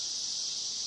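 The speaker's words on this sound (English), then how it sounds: "before the cicadas drown me out" Cicadas buzz outdoors in a loud, unbroken high-pitched drone, with no voices heard.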